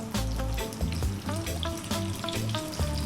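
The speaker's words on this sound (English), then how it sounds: "We're simply gonna drop all of our zucchini in there." Zucchini dropped into hot olive oil over high heat, seasoned with salt and black pepper, giving a busy, close sizzle full of sharp crackles and pops.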